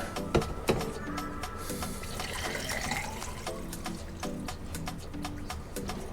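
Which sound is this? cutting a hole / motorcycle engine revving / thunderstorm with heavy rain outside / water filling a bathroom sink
water filling a bathroom sink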